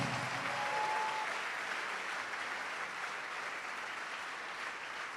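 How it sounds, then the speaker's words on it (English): A conference crowd at a summit applauds to welcome a speaker, a full, continuous wash of clapping that stays even and slowly eases off, heard from within the hall. "with a round of applause, welcome our very own President and Founder, Honorable Andy Osei Okra"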